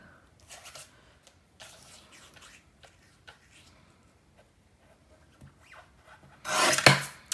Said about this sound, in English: I'm just going to trim 1/4 inch off